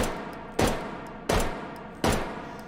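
Three evenly spaced M1911 Tactical pistol shots with a permanent red dot sight in H3VR, each a sharp, loud crack followed by a short decaying tail, with no talking.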